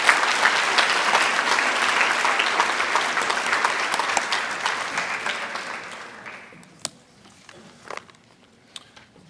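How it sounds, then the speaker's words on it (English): Audience applause for Tar River Academy honorees at an evening of academic excellence, a sustained crowd clapping that fades out around six seconds, leaving a few scattered isolated claps in a quiet hall. "please join me in another round of applause congratulating all Tar River Academy"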